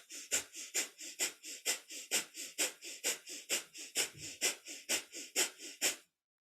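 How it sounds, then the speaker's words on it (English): Rapid, rhythmic nasal breaths pump in and out steadily, about three per second, close and forceful, like fast panting through the nose, a kundalini yoga breath of fire pumped through the navel. "it's a panting breath, but through the nose with a steady pump through the navel"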